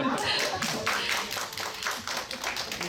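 Congregation applause in a Korean church welcoming a returning visitor, a brisk patter of many hands clapping close by, steady through the short stretch.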